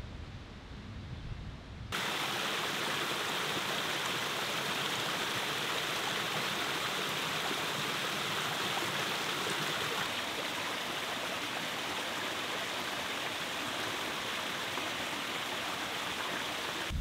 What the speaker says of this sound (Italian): qua sotto c'è un bel torrente, quindi si può prendere acqua e ci si può dare anche una sciacquata